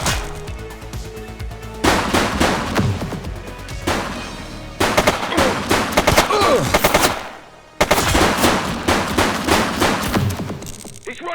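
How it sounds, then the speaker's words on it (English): Rapid machine-gun fire in a police shootout in The Precinct, sustained loud bursts with a brief pause near the end before another close, heavy volley. "He's shooting!"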